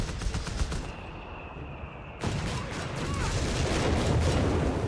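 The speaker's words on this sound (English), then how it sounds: "Big bombardment over the centre." An artillery bombardment crashes across the centre of a Company of Heroes 3 battlefield, with dense, rolling volleys of blasts and gunfire continuing throughout.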